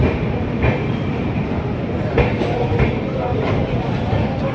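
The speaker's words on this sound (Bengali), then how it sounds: "আমাদের ট্রেন এখন বিলাসপুর ছেড়ে চলে যাচ্ছে।" A train pulls out of the large Bilaspur station. It makes a steady, close rumble with a few sharp rail clacks spaced through it and faint background voices.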